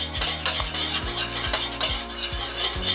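Ugali flour being worked into boiling water in a pot, repeated rhythmic scraping and knocking strokes of a utensil against the pan over a faint bubbling sizzle, close and without voices.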